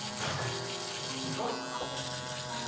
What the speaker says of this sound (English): Now I'm gonna go right under that with my shaver.